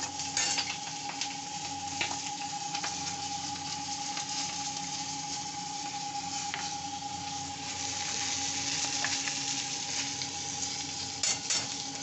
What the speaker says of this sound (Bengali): কালো জিরে কাঁচা লঙ্কা ফোড়ন দিয়েই করছি